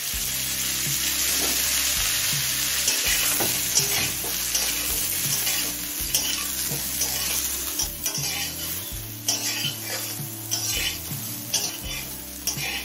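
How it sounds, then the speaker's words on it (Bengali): Cauliflower fries in mustard oil in a wok, a loud, steady sizzle broken by the repeated scrape and clatter of a metal spatula stirring against the pan, close up and without talk. "এখন এই তেলে ফুলকপিটা ভেজে নেব"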